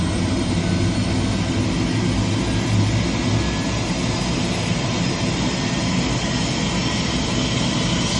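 A Bell 407 helicopter turbine engine spins up during start, giving a steady, loud, broadband whine and roar that holds evenly throughout with no voices.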